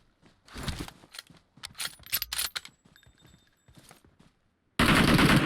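Gunfire rings out while shooting a bot in the PUBG Mobile video game, with several sharp bursts of rapid shots, then a loud sustained volley near the end.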